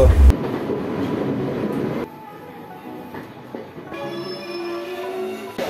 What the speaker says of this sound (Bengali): দেখতেই পাচ্ছ এখন ট্রেনটা চলে এসেছে